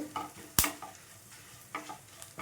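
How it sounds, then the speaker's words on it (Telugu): Cumin and coriander seeds fry in a pan over a medium flame, with a quiet sizzle, one sharp scrape of a spoon, and a few softer stirring strokes. "వీటి నుంచి మంచి స్మెల్ వచ్చేంత వరకు వేయించుకోవాలండి ఫ్లేమ్ మీడియంలో ఉంచేసుకొని వేయించుకోండి"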